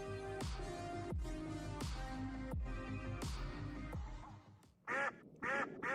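Duck quack sound effects dubbed over gunfire in a street shootout, a rapid run of loud, repeated quacks followed by a few separate squawking quacks near the end.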